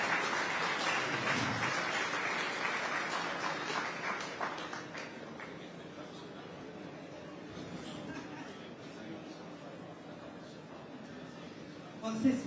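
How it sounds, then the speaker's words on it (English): An audience at a Night Time Economy Summit applauding, a burst of clapping that is loudest at the start and thins out over several seconds, followed by a quieter room with murmuring and movement. "if you could give her a round of applause"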